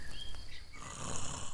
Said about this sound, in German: Mensch, wer schnarcht denn da so?